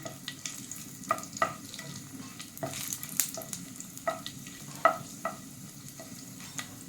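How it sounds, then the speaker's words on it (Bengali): Bay leaves, two dried red chillies and whole garam masala sizzling in hot oil for prawn pulao, a soft steady crackle punctuated by repeated clinks and scrapes of stirring, close and moderately quiet. "তেলটা গরম হয়ে গেছে, এবার আমি ফোড়নের জন্য কিছু দেব। এখানে দেবো তেজপাতা, দুটো শুকনো লঙ্কা আর এখানে গোটা গরম মশলা দিয়ে একটু ভালো করে"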